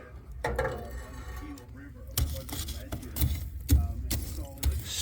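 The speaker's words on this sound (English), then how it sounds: "Oh yeah, stir them coals." Metal poker scraping and clinking against a bed of wood-stove coals on a cold northern Minnesota morning, several sharp clanks and rattles over a low rumble, close by, with someone talking quietly between strokes.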